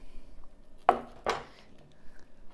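A knife cuts into fruit to carve a small mouth for a healthy Halloween treat. Two short, crisp cutting sounds come close together, close-up and fairly quiet, with near silence around them.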